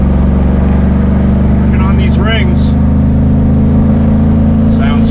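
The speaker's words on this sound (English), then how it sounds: "Just out here, varying the RPM, varying engine load" A Ford Marauder with an SVT Terminator engine swap runs on a dyno, its loud, steady engine drone dominating throughout as someone speaks briefly over it.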